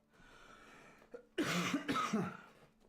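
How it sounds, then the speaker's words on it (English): A few harsh coughs in quick succession, close and fairly loud, after a quiet stretch with a small throat sound. "And I'm coughing loads."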